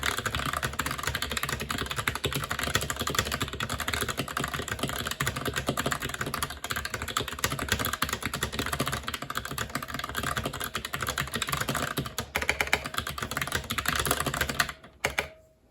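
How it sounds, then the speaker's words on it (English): Steady rapid typing on a ROCCAT Vulcan TKL Pro keyboard with thin ABS keycaps, dense close keystrokes running continuously before stopping abruptly near the end. "let's do a quick type test and we'll talk about the touch and feel."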